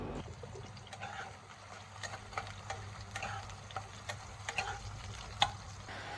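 Finely chopped small bitter gourds fry in oil until reddish, a quiet, steady sizzle with scattered sharp crackles and spatula taps, heard close and faint.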